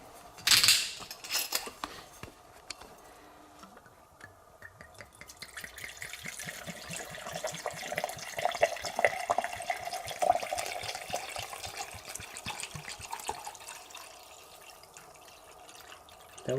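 Vodka is poured into the reservoir of a liquid-cooled overclocked PC, giving a continuous gurgling, splashing liquid stream with bubbling that builds and wavers over several seconds, close by, with no talking.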